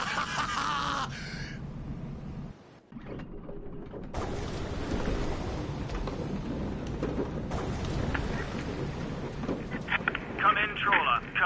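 A thunderstorm at sea with rain and rumbling thunder, broken by an abrupt near-silent gap before the storm noise returns, dense and fluctuating, with bursts of louder crackle late on.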